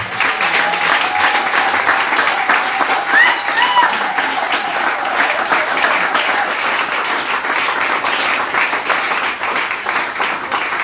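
A congregation in a church claps and applauds steadily throughout, a dense, loud wash of hand claps with crowd voices mixed in underneath.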